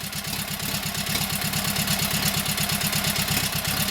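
A Kohler KT17 engine just started for the first time after a lost governor repair runs at a steady idle, a close, even, rhythmic pulsing drone with no voices.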